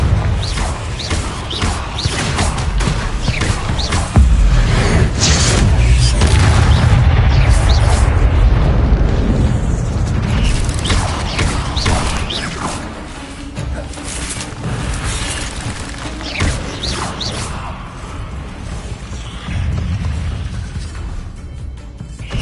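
The Confringo blasting spell in Hogwarts Legacy sets off loud, booming explosions with crashing, rumbling bursts that roll on for many seconds, dense and close amid other game sounds, with a voice heard at times.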